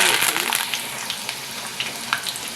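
Curry leaves and garlic crackling in hot oil in a pan, a dense continuous sizzle with scattered small pops, close and fairly loud.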